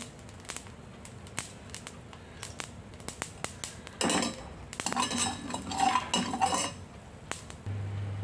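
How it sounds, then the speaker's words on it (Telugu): A spoon stirs and scrapes mustard seeds and amla powder as they dry-roast in a pan. Sparse metallic clinks give way to a denser, steady run of scraping in the middle, then a few quieter taps. "ఇవన్నీ డ్రై రోస్ట్ చేయాలి నల్లగా అయిపోవాలి"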